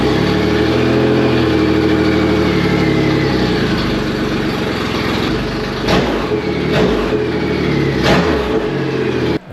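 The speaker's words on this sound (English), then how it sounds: "Fire up the bike and let it run for a bit." A Triumph Rocket motorcycle engine runs after an oil change, a loud, close, steady idle with a few blips of revving toward the end and no talk.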